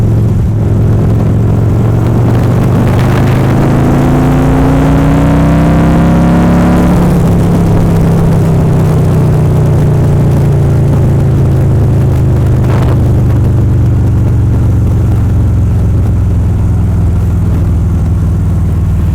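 Harley-Davidson motorcycle engine pulling hard through a throttle roll-on, a loud deep rumble rising in pitch through the gears, then settling into a steady drone while riding, close and continuous.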